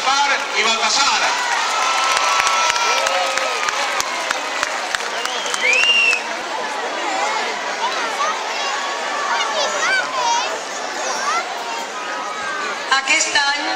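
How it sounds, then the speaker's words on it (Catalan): Large crowd at the Three Kings celebration in Oliva applauding loudly and cheering, with children shouting and whoops over continuous clapping, and people talking through it. "Esto es lo que vos demane un fort aplaudiment per a Melchor, Gaspar i Baltasar."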